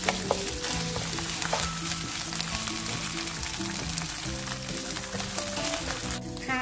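Chili, garlic and coriander root fry in a hot pan for a Thai seafood stir-fry, a steady close sizzle with crackling and stirring throughout and no talk.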